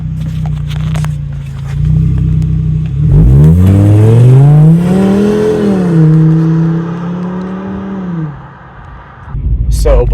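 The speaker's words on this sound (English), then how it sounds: "that great acceleration exhaust sound there was achieved without the sport mode" A Volkswagen Golf Mk VI engine revs up hard from idle without sport mode, the exhaust note rising in pitch and growling loudly before easing off, recorded close up.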